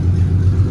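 A small block V8 in a race car idles close by, a low, steady, loping rumble that keeps an even throb for under a second with no revving.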